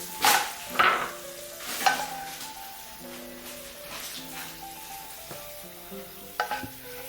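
Raisins frying in hot fat in a pan for semolina pudding, a soft steady sizzle with a few sharper stirring clinks and scrapes, close but fairly quiet, no speech.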